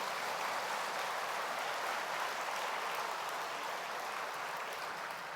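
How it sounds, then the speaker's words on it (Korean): A church congregation gives the pastor a round of thanks, producing dense, even applause throughout that sounds steady and slightly distant, with no talk over it. "큰 감사의 박수 보내주시겠습니다"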